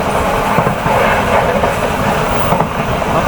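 Taksaka passenger train running past another train near Kroya station, a steady loud rumble of wheels and carriages with faint rhythmic clatter, no talking.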